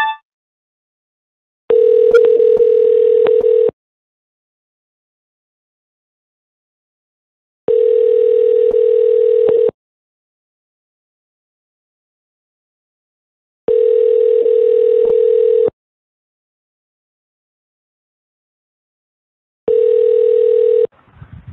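An outgoing telephone call rings back to a tech support scammer's line, four even ringback tones of about two seconds each spaced several seconds apart, loud and steady with silence between, no voices.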